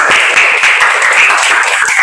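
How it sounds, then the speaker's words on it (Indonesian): A classroom of students clapping hands together at a teacher's prompt, a loud, continuous wash of close claps lasting about two seconds without pause. "Baik, tepuk tangan kita dulu."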